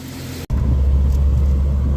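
A Jeep Comanche pickup rumbles along on a test drive after a front suspension overhaul, with a steady low engine and road drone inside the cab following a brief cut near the start.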